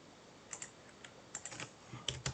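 Someone types code on a computer keyboard, a quick irregular patter of soft key clicks at close range, quiet and without talk, with a slightly firmer pair of strokes near the end.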